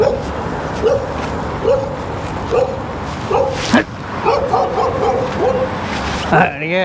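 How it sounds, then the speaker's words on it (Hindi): A dog by a roadside barks repeatedly, a string of sharp close barks and yips with short gaps, someone talking over it amid traffic noise. "सामने देखो, कुत्ता भौंक रहा है मुझे।"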